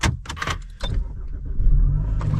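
An Audi car engine cranks with a few sharp bursts, then catches and settles into a low, steady idle close by.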